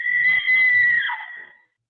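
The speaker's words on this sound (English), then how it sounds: "He tries to, but she screams." A woman screams in a recording being played back, one loud, shrill, sustained cry that breaks briefly and then trails off into silence.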